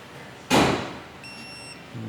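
A torque wrench tightens the transmission drain plug of a 2023 Honda HR-V to 36 foot-pounds. One sharp, close metallic clack rings briefly, followed by a short high electronic beep and a faint thump at the end.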